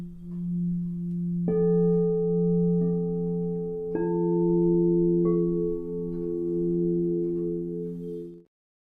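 Tuned drinking glasses played by a woman, clear sustained ringing tones entering one after another in a slow sequence, each new pitch layering over the last before all fade out together.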